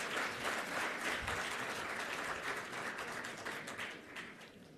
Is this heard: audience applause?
yes